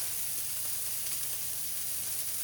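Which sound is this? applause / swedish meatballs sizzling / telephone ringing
swedish meatballs sizzling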